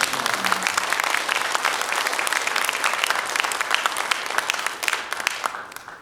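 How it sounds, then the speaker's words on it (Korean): A seminar audience gives loud, dense applause to a visiting lecturer at a Bible redemptive-history seminar at a theological school. The clapping is continuous and steady, then begins to fade in the last second. "우리 큰 박수로 한번 다시 부탁드립니다."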